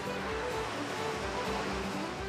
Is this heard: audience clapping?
no